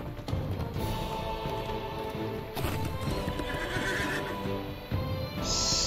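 A horse in the fantasy game Lord of the Rings Online whinnies loudly amid steady clip-clopping hooves and dense in-game ambience, with no voices.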